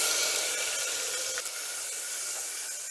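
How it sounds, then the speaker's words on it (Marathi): Chopped tomatoes tipped into a hot pan sizzle with a steady broad hiss, loud and close, fading slightly over a few seconds with no voices. "ह्याच्यामध्ये हे आपण एक वाटीवर चिरलेले टमॅटो घालणार आहे"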